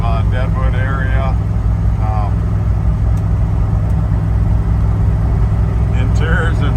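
A 1978 Ford Bronco drives along, its engine and road noise forming a loud, steady rumble from inside the cab, and someone talks over it in short bursts.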